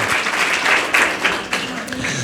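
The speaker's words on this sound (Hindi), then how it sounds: "ताली बजा दो बच्चे के लिए" An audience claps for a child at a spiritual talk, producing steady, dense applause that fills the room for a couple of seconds, with voices mixed in.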